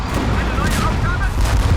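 Artillery pounds in a continuous rumbling barrage in the strategy game War Front: Turning Point, deep booms and crackling blasts overlapping loudly with no quiet breaks.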